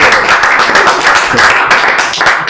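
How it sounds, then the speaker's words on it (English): Indoor audience at a talk giving a big round of applause, dense rapid clapping from many hands, loud and close, sustained for the whole stretch. "I would definitely like us all to join in with a big applause for Ken for this."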